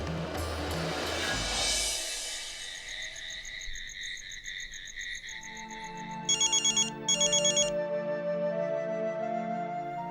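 A telephone rings late at night, a repeated electronic ringtone in short bursty trills over a sustained musical tone and soft background.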